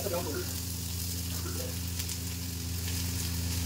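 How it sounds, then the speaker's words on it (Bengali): Onions going into hot oil already flavoured with dried chillies, bay leaf, cardamom and cinnamon for a Bengali chicken curry, giving a steady close sizzle and frying hiss with a low hum under it and a brief voice at the start. "এখন পেঁয়াজ চলে যাবে।"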